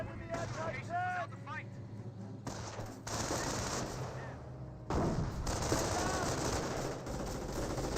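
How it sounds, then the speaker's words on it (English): StG assault rifles firing in the Company of Heroes video game, repeated bursts of automatic fire in several waves, with a voice talking over the first part and shots continuing loudly after. "STGs firing away."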